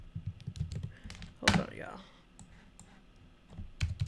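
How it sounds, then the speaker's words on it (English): Computer keyboard typing, quick clusters of close key clicks, with a person briefly talking over them partway through. "I can't see what I'm typing."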